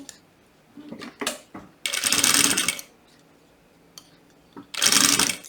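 A sewing machine runs a safety seam on stretchy fabric for a butterfly-shaped zippered pouch in two loud, sustained bursts, separated by quiet pauses with small clicks and handling noises.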